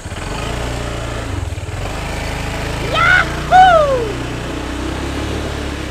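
A motorcycle engine idles steadily nearby with a low, even rumble, while a couple of brief rising and falling tonal chirps cut in around the middle.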